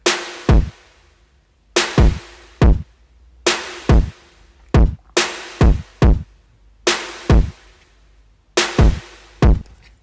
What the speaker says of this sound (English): All they're doing is just playing a simple beat, just a kick and a snare basically.